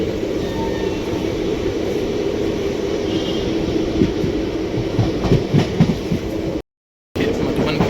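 A passenger train bound for Mount Abu rumbles steadily as heard from inside a carriage, with continuous low clatter and faint wheel clicks throughout and a brief dropout near the end.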